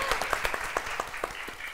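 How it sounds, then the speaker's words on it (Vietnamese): Audience applause at a Vietnamese matchmaking show, a modest group clapping with distinct, fairly regular individual claps, somewhat distant and fading slightly toward the end. "Vỗ tay quý vị ơi."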